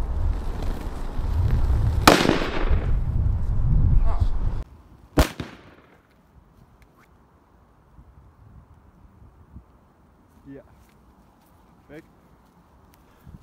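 White phosphorus burns in liquid oxygen in a plastic cup, a loud roaring rush for several seconds broken by a sharp crack, then an abrupt pop and near silence.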